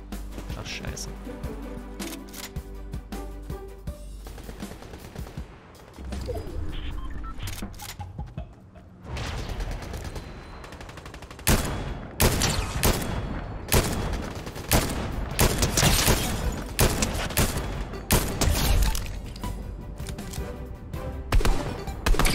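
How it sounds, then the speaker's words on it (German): Bursts of video-game gunfire from Fortnite, scattered shots giving way to dense, loud volleys and rapid exchanges in the second half, with a voice talking at times over the in-game action. "Haben wir schon wieder Schüsse?"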